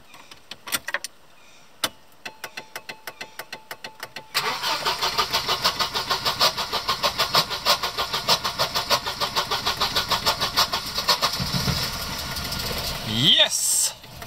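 Volvo 240 engine starting after an ignition repair: a few slow cranking clicks, then the starter turns over rhythmically before the engine catches and runs on, close and loud.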